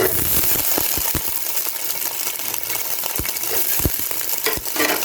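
Raisins frying lightly in hot mustard oil for beef tehari, a steady close sizzle with sharp spoon clinks and stirring scrapes against the pan, no talking.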